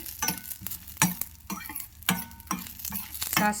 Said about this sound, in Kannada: ಎಲ್ಲ ಚಟಪಟ ಸಿಡಿಬೇಕು ಅಷ್ಟು ಚೆನ್ನಾಗಿ ಹುರಿದಾಗಿದೆ